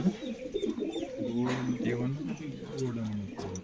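Pigeons cooing in a low, rolling rhythm, with repeated soft throaty calls close by and someone talking over them throughout.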